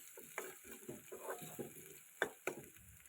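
Ginger garlic chili paste with turmeric is stirred in a pan, giving a soft sizzle and scattered quiet scrapes and taps of a spoon, with a couple of sharper clicks near the end; faint overall, no talking.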